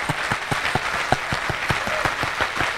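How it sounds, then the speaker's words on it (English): A church congregation claps in a steady rhythmic beat, each clap sharp and evenly spaced, with a dense wash of scattered clapping and faint voices underneath. "If you clap well,"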